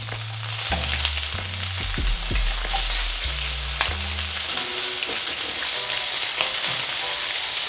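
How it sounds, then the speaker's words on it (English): Slices of Spam sizzle steadily in a hot pan, a continuous bright hiss under a low stepping melodic backing throughout. "Oh, listen to that sizzle."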